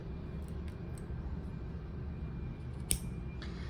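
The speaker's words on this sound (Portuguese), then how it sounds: "Então, agora, eu vou cortar aqui o meu fio." Scissors snip crochet yarn for a bag, giving a few faint light clicks and one sharper cut near the end, all over a low background rumble.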